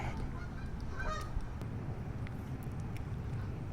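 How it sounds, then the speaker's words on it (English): Geese honk outdoors at a feeding spot, a few loud calls over steady background noise with no talking. "As long as those geese don't come up here"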